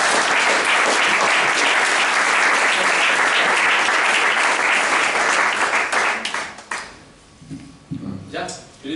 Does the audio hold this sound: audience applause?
yes